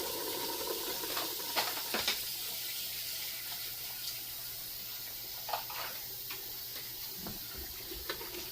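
Tap water runs steadily into a cooking pot of chicken broth with cilantro and garlic, a faint continuous hiss with a few light clinks and splashes, no talking.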